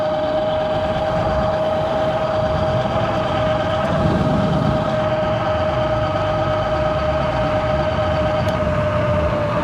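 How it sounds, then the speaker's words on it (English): Loud, steady e-bike tire roar on pavement with a sustained whining hum, continuous and close, no voices. "these tires are so loud."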